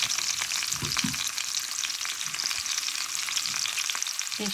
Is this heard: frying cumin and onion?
yes